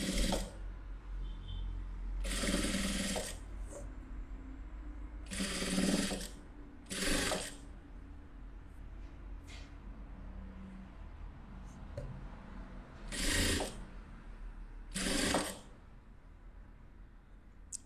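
A sewing machine stitches fabric in several separate bursts of fast mechanical whirring and needle clatter, each lasting a second or so, with quiet gaps between them in a room.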